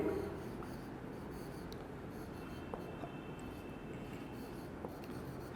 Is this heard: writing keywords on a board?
yes